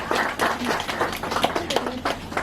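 Audience at a magazine inauguration ceremony clapping in a short burst of steady, moderately loud applause from a small crowd, with no talking.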